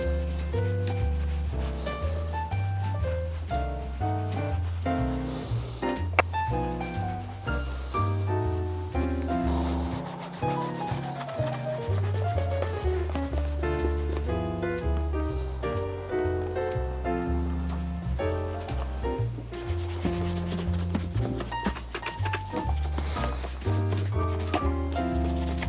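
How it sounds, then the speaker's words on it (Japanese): Steady rubbing as the heel edge of a handmade bespoke leather Derby shoe is polished, a continuous soft friction sound under a louder melodic music backing. "ヒールのコバもしっかり磨いておきます。"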